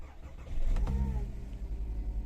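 A cold car engine cranks and catches, then settles into a steady low idle that keeps running close by with no talk over it.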